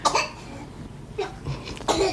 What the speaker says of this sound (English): The coughing that you hear, he's been doing that a lot lately since.